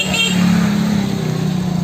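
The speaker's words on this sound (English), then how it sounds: "If you hear a lot of honking, that's the reason why, because we're in Hanoi." Car and motorbike horns honk over the steady roar of dense Hanoi street traffic, the beeps overlapping continuously and loud throughout.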